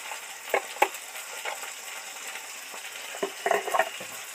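Mutton pieces frying in a pan for a spicy Bengali mutton curry, giving a steady sizzle with a few sharp spatters and stirring scrapes.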